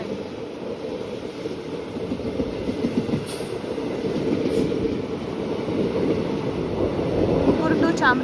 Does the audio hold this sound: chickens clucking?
no